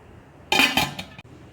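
A metal lid clanks down onto a cooking pot of beef potato milk curry, one close sharp clatter with a short ringing settle, no voices.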